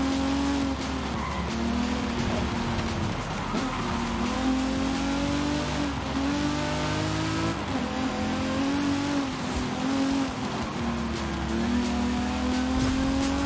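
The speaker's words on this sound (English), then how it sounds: "Another reason why I like this car is because it sounds so very nice." A car in the video game Forza Horizon 5 revs hard through rising and falling engine pitches while its tires squeal and skid, loud and continuous throughout.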